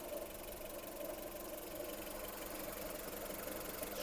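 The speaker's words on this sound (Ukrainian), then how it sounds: "робота двигуна" A Volkswagen Golf Plus 1.4 petrol engine idles steadily with a constant low rumble and faint mechanical ticking, close by, with no voices.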